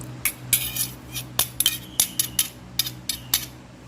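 A spoon is washed in a kitchen, clinking sharply against dishes in a quick, irregular series of close, bright taps and knocks, with no talking.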